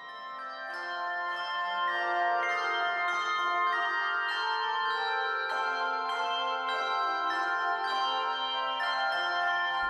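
A small hand bell is rung to send a newly launched book out into the world at a book christening. Bright, sustained metallic ringing layers over itself and carries steadily for about ten seconds with no talking.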